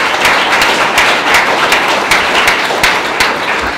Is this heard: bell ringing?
no